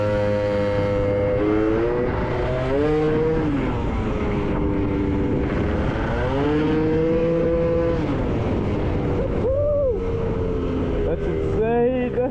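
Loud, continuous revving of a Gilera Runner 180cc scooter fitted with a Malossi exhaust and 28mm carburetor, its engine pitch rising and falling repeatedly in close, sustained whines.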